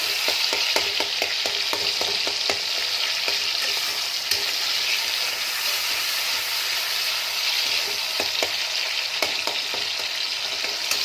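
Potatoes and peas frying in a pan for a vegetarian Bengali aloo matar kosha, a steady loud sizzle with occasional stirring scrapes and pops, no one speaking.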